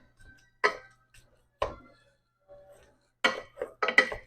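Several sharp scraping, knocking strikes of a utensil against a pan, chopping up frozen ground beef, irregularly spaced with a quick cluster near the end, close and moderately loud.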